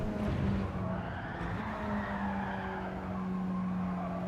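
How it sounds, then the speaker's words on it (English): A Mitsubishi race car in Gran Turismo 7 slides at the Red Bull Ring, its tyres squealing in a sustained, wavering screech over a steady engine drone. "It'd be nice if I can work out how to stop the car sliding there"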